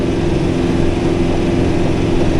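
A brush hog mower running in a field, giving a loud, steady engine drone with a constant droning hum and no change in pace throughout, close to the microphone and with no one speaking.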